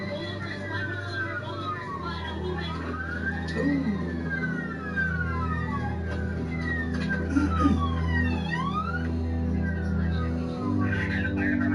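Several police car sirens wailing during a high-speed chase in a PS4 video game, rising and falling in overlapping sweeps over a constant engine drone, loud and close throughout.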